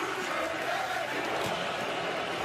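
A college football stadium crowd in Indiana chants "Hoosier Daddy" during the Michigan game, a broad sustained roar of massed voices rising and falling, with a commentator's voice audible over it.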